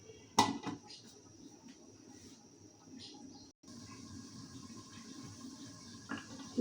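A metal lid clanks down onto a pot of simmering meat curry, one sharp clatter near the start with a brief follow-up knock, then a low steady bubbling hiss carries on underneath.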